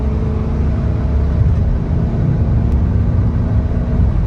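A Dodge Charger, 2006–10 generation fitted with paddle shifters, idling steadily, a loud low rumble that holds even and continuous throughout with no talking.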